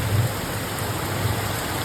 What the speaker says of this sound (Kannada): ಭಯಂಕರ ಮಳೆ ಇಂದು